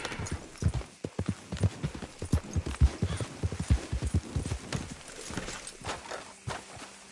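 Horse hooves clip-clop in a quick, steady rhythm in Red Dead Redemption II, close and distinct, with a brief whinny and no talking.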